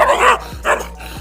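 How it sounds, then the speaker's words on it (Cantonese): A fierce black female Chinese rural farm dog barks twice in quick succession, loud and close, each bark a harsh burst with a short pause between. "想不到这条母狗这么凶"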